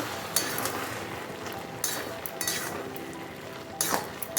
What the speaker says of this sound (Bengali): এবারে আমি পুরোটা ভালো করে নাড়িয়ে নেব।